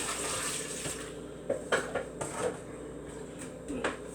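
Water drained from a bowl of thin-sliced sweet potatoes into a kitchen sink, with a running trickle and a few splashing gushes and clinks of dishes, close up and no talking.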